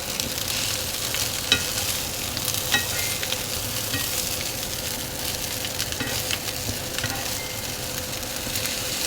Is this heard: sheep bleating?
no